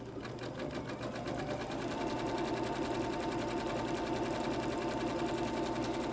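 Janome Horizon Memory Craft 14000 sewing machine running a dense satin stitch at 3.5 width and 0.35 length, a steady rapid whirring hum with rhythmic needle chatter throughout, loud and close, no talking.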